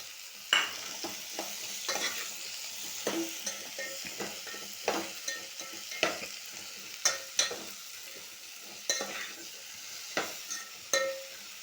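Cut okra fries in oil with dried red chillies and turmeric, a soft sizzle punctuated by regular clinking spatula strokes against the pan.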